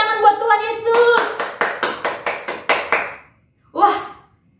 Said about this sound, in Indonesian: Mari berikan tepuk tangan buat Tuhan Yesus.